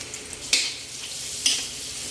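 Ginger and butter sauté in a pan for a mussel and shrimp dish, giving a soft, steady sizzle with two brief, sharp crackling pops about a second apart. No one speaks.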